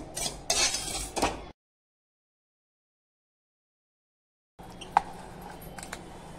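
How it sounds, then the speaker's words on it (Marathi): Jaggery and coconut modak filling being scooped from a pan onto a plate, a few scraping metal clinks and taps at the start, a silent gap, then more clatter and one sharp knock. "सारण काढून घेते आहे ताटामध्ये"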